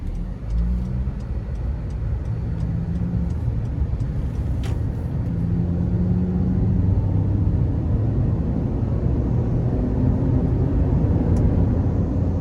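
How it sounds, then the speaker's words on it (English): Steady engine and road rumble inside a 2012 Honda CR-V EX-L with about 140,000 miles, accelerating onto the interstate, a continuous cabin drone that rises slightly as the throttle is applied, with no talk. "I'll give it a little throttle and then we'll put it in the econ mode when we're on the interstate"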